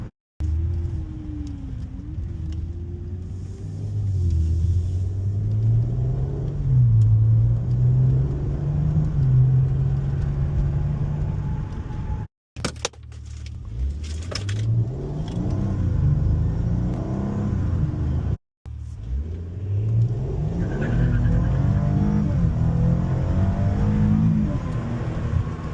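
A tuned, ECU-upgraded Maserati Ghibli accelerates hard with wheel spin, its engine note rising in long, loud sweeps broken by two brief gear-change gaps, heard from inside the car.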